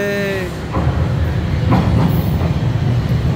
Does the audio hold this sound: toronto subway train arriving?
yes